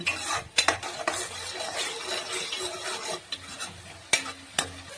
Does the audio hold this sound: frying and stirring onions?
yes